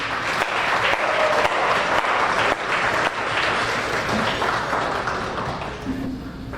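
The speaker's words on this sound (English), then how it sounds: "Please give her a round of applause." Audience at a women's organization's annual luncheon gives a round of applause for a liturgical dancer, dense clapping that stays loud and then slowly tapers off.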